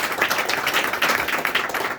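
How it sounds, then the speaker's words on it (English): An audience gives a round of applause at a public event, with steady close clapping throughout and a faint voice underneath. "a round of applause to her and her husband"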